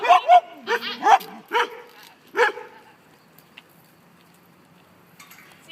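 Dogs on a leashed walk bark in a quick series of sharp, close yips and barks, about half a dozen in the first few seconds, then go quiet apart from faint background noise.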